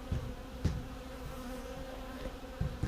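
Honey bees hum steadily in an opened home hive during a spring inspection, a soft, continuous buzz with a few louder passes of individual bees close by.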